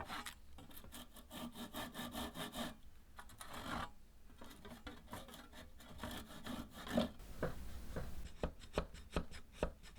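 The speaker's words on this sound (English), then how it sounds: "A long chisel is used for cleaning up." A long chisel scrapes and pares wood in repeated rasping strokes while cleaning up the arm of a comb-back Windsor chair, close up and fairly quiet, with short pauses between cuts.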